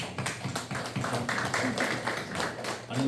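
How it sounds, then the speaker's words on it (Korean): A church congregation at a Sunday service applauds to welcome a young man serving in the military, a sustained round of brisk, crisp clapping from many hands filling the room, with no talk over it. "여러분 환영해 박수"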